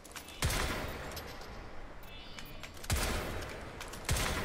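Gun firing in burst mode in Crysis 3, three distinct loud bursts spaced a couple of seconds apart, each followed by a decaying echo.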